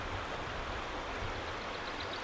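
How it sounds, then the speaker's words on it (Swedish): Flowing river water runs steadily through a valley in Mjällådalen, a continuous broadband rush with no pauses, close and moderately loud, with no voices over it. "Ser ut att vara mycket vatten."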